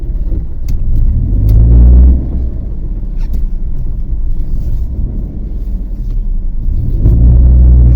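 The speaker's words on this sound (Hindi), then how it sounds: "एक गाड़ी और आ गई है।" A car pulls into a narrow village street, its engine rumbling loudly and close, swelling near the start and again at the end, with no one speaking.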